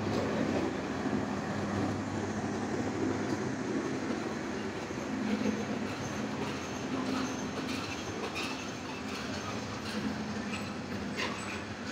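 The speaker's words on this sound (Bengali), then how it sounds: "কিছুক্ষণের মধ্যেই রংপুর এক্সপ্রেস প্রবেশ করবে" Rangpur Express train rolling into Soydabad railway station in Sirajganj, a steady, loud rumble of rail wagons with faint clicking wheels that runs unbroken throughout, with no talk.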